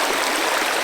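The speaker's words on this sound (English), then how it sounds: "I'm going to walk across the stream here" A stream rushing past the rocks of an old dam near abandoned coal mines, a loud, close, continuous broadband wash of flowing water with no talking.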